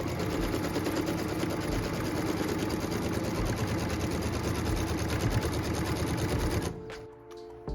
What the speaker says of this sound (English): So what we're stitching right now is piece number 5's tack down line.